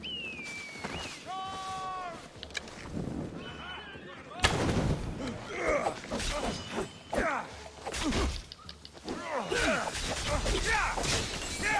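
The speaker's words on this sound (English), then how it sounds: "Whoa, that's a big explosion." A loud battle explosion in Assassin's Creed Odyssey booms and crackles, followed by repeated blasts, shattering debris and clashing effects that fill the scene, with a voice speaking briefly.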